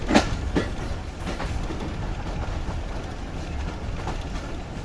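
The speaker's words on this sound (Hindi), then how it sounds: "ये ट्रेन ट्रैक चेंज करके हमारी प्लेटफॉर्म लाइन यानी लूप लाइन पर आ गई है।" Khyber Mail passenger train switching tracks onto a station loop line at night, a steady rumbling roll of wheels with faint clicking joints and a couple of sharper knocks near the start, continuous and fairly close.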